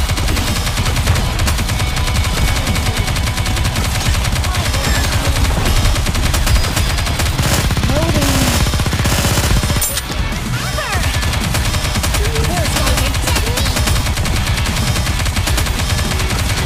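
Rapid, dense gunfire from Goddess of Victory: Nikke, sustained automatic bursts and overlapping shots at loud, close range, with battle effects layered over a constant heavy din.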